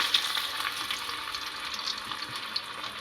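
Pea pakoras fry in hot oil with a steady, close bubbling sizzle, even and moderately loud throughout, broken by a few small crackles and pops, with no talking.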